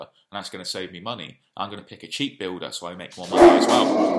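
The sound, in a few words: pet dog barking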